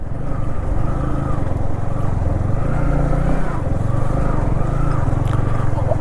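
A motorbike rides along a rainy mountain road in Munnar during the monsoon, its engine droning loudly and steadily throughout with a wavering pitch, and a voice talks over it.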